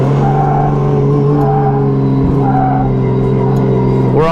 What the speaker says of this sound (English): I'm like purposely understeering the car everywhere to get as much heat into them as possible